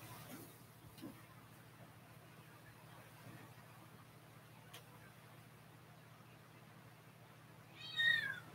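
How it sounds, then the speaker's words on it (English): A cat gives a single meow close by near the end, after a long stretch of faint room hum. "Cat was making weird noises."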